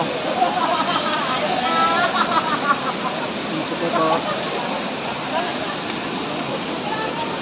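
Taytay Falls in Majayjay, Laguna pours in a steady, loud broadband rush of falling water with crowd chatter and bathers' voices mixed underneath throughout.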